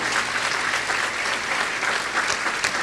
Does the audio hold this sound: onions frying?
no